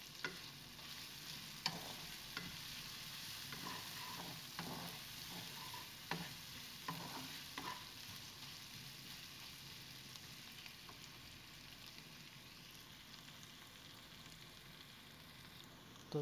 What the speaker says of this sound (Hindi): दो से 3 मिनट के लिए इसको जना मज़ीद फ्राई कर लेंगे।